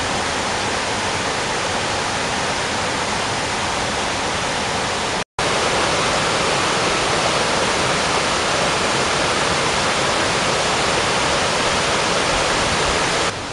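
Barosa waterfalls beside old mills in Galicia, on the Camino de Santiago, a constant broadband roar of falling water with one sharp split-second dropout.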